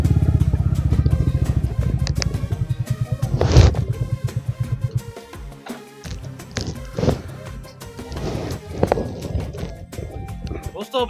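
A motorcycle on a ride, its engine close and throbbing in a fast, steady pulse for the first few seconds, then changing pitch and load with some rougher bursts as the ride goes on.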